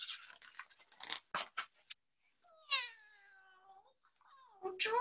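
A cat meows in a long, drawn-out wavering call after a run of scratchy, rustling noises, followed by another rising meow at the end; no speech accompanies it.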